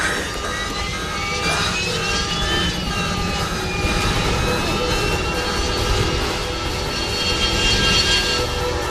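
A steady airplane engine drone fills the clip, loud and continuous, as an aircraft flies with no voices over the roar.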